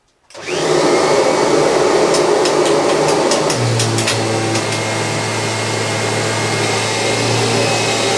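A Kirby G5 vacuum cleaner powers up and runs over a rug with flour spread beneath it, giving a loud, steady whine and roar close by, with a few light rattles near the middle.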